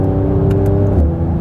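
A 2019 Mercedes C43 AMG facelift in sports mode, its exhaust droning steadily at close range with a brief crackling burble and a drop in engine note as a gear shift comes through near the end.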